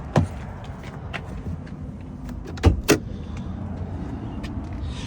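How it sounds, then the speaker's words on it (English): The hood of a Ford Bronco Raptor is released with a few short, close mechanical clunks and latch clicks against quiet background noise. "let's pop the hood."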